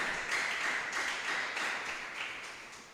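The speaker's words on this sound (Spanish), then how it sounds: "Dele ese fuerte aplauso al Señor." A church congregation claps and applauds together in a sustained, dense wash of hand claps that rises and falls slightly for several seconds.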